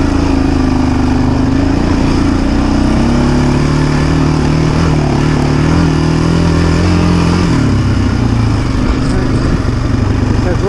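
A Yamaha Raptor 700R ATV on its first trail ride at Brushy Mountain, its engine running close and loud in a steady throbbing drone that shifts pitch as the throttle changes, with wind noise over it.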